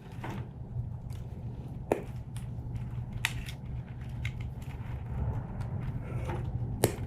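Wires being snipped out of a relay connector during a 3UR V8 swap, a few sharp, isolated cutting clicks spaced seconds apart over a low, steady background hum.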